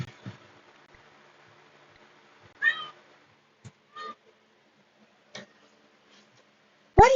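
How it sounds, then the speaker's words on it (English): A cat meows several times, short and fairly close, separated by quiet pauses with faint background ticking. "Oh, that's my cat."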